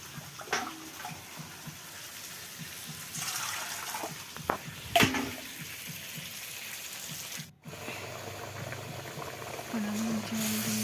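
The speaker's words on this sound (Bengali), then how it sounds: "আমি জল দিয়ে দিলাম। একটু সিদ্ধ করার জন্য" Water bubbling and boiling in a pot of mutton curry, a steady low simmer with occasional pops and splashes, close by, with faint kitchen sounds.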